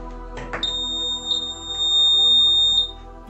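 A high-powered buzzer on a school-built disaster warning device sounds a sustained high-pitched electronic alarm tone steadily for a few seconds, loud and close, with a low background hum and no talking.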